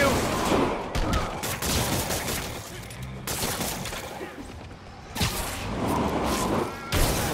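Hammerhead thugs and Sable forces open fire in Marvel's Spider-Man Remastered, The Heist DLC: dense, loud bursts of rapid gunfire crackle in repeated volleys, dipping briefly between waves amid crashes and whooshes.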